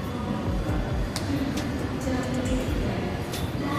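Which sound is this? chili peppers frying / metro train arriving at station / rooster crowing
metro train arriving at station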